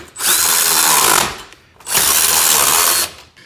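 A power tool whirs in two loud, close bursts of about a second each, driving nylon lock nuts onto the brackets of stainless steel running boards on a vehicle.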